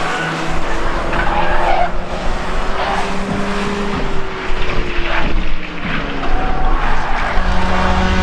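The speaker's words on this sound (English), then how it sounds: "Off goes the 98 car into the barrier." A race car, the number 98, skids off the track and slams into the barrier at South Boston Speedway. It comes as a loud sustained tire skid over engine roar, with no talk.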